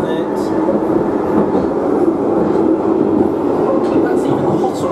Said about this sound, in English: This is automatic train operation here,